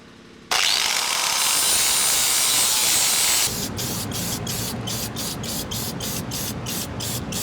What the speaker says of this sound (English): we're just gonna put some spray paint on it so that part doesn't rust on your frame